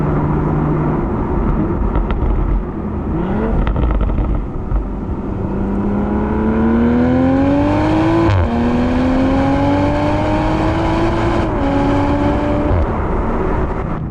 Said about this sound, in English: Yeah, it sounds good. It's definitely a beautiful engine.